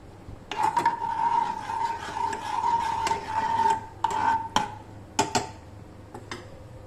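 A spoon scrapes and stirs ground pumpkin and peanut soup mixture in a metal pot, with a steady rasping sweep and several sharp clinks against the rim.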